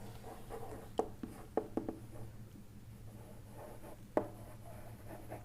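Chalk or marker taps and scratches on a board during an engineering lecture, in a few short strokes over a low steady room hum, faint and fairly near.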